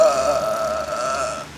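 A woman lets out a long, deep, droning burp lasting over a second, loud and close, with fans and an air conditioner humming faintly in the room.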